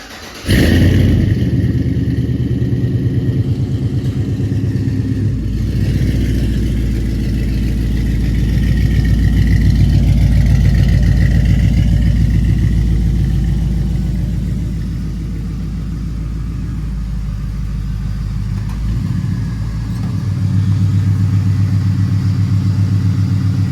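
A turbocharged 6.0 LS V8 swapped into a 1963 Ford Galaxie, starting up and running with a loud, deep, steady idle rumble that swells slightly mid-clip and stays close throughout.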